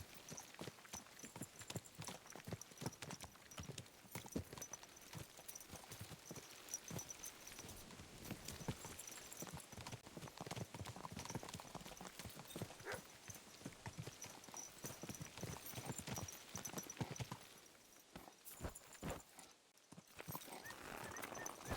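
Horse hooves clip-clop in a steady walking rhythm in the video game Kingdom Come: Deliverance II, continuous and fairly close, with faint background ambience and no talking.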